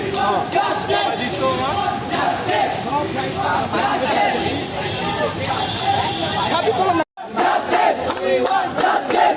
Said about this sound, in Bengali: রেসিডেন্সিয়াল স্কুল অ্যান্ড কলেজের শিক্ষার্থীরা ইবনেসিনা হাসপাতালের সামনে পেস্টুন এবং ব্যানার নিয়ে প্রতিবাদে দাঁড়িয়ে স্লোগান দিচ্ছে